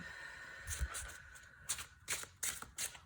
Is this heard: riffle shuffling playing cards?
yes